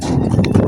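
Carabao hooves pound the ground at a run, a loud close rush of quick dull thuds over rough outdoor noise.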